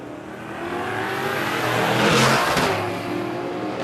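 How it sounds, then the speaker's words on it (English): Long-roof station wagons, a white HQ and a green car, launch side by side down a no-prep drag strip at Warwick Dragway, Australia; loud engine roar builds and peaks as they pass close, then recedes slightly. "couple of long roof wagons coming at us now"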